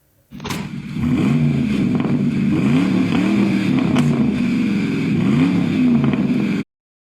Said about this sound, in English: this is probably one of the best sounding engines on this list, the Maserati Quattro